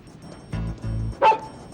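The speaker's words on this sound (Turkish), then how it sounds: "Niye havladı birdenbire?" A dog gives two short, deep woofs close by, followed by a higher yelping bark, each burst separate and loud against a quiet background.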